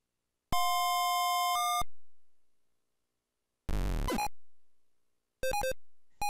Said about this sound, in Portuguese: Apareceu a bomba, toca um som junto.